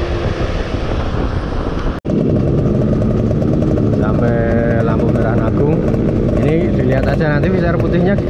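Yamaha F1ZR underbone motorcycle in first gear, its two-stroke engine buzzing loudly and steadily with rising revs and a brief cut near the start, while someone talks over it.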